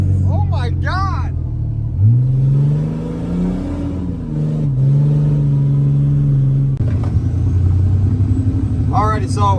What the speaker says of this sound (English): it does a nasty burnout